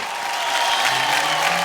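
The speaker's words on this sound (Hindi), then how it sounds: "जोरदार तालियां अन्विक्षा जी के लिए।" Steady, full audience applause for Anvikshā on a televised show, a dense wash of clapping that holds at an even level from start to finish with no talk.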